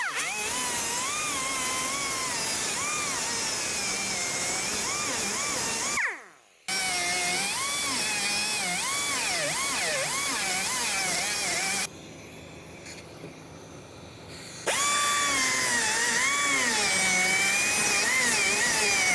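A power drill cuts out door rivets on a 2001-2005 Ford Explorer Sport Trac during a window regulator job, giving a loud, close, continuous grinding whine whose pitch wavers, broken by two short pauses.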